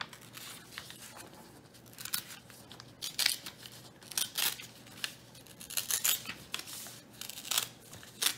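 Folded paper, creased back and forth many times to make a cootie catcher, is torn slowly by hand. Close, crisp ripping bursts come in irregular spurts over a quiet room.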